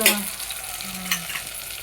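Vegetables with coriander sizzle in a hot pan with a soft crackle, and a utensil scrapes and stirs briefly.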